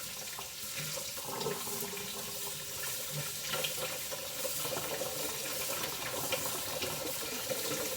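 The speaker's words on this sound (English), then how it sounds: "Rinse these off." Kitchen tap water runs steadily into a sink while tomatoes are rinsed for fresh salsa, a continuous close splashing stream with no talk.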